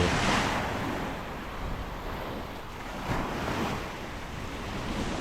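Sea waves wash continuously onto Jomtien Beach in Thailand, a broad roaring surf mixed with gusty wind buffeting the microphone, close and steady with no voices.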